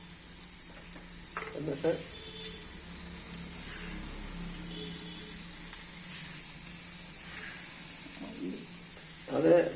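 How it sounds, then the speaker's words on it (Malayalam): Grated coconut, curry leaves and onion roasting in a kadai for a Kerala jackfruit curry masala, a steady soft sizzle with occasional stirring scrapes, birds cooing in the background and a brief spoken word. "ഒരു കടായിൽ തേങ്ങയും കരിയാപ്പലയും ഒരു സവാളയും ഇട്ട് വറക്കുകയാണ്"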